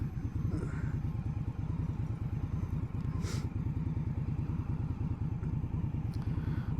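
A 2021 Indian Scout Bobber motorcycle idles at about 1100 RPM, its V-twin engine giving a steady, close, low-pitched pulsing thump with an even rhythm and no revving.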